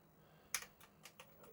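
Keys tapped on an Amstrad computer keyboard, a handful of quick, light clicks at an irregular pace, close by and quiet, with no talking.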